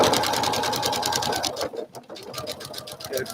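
A sewing machine stitches a quilt in a fast, even, close-up mechanical rattle, pausing briefly midway before resuming its rapid rhythmic chatter.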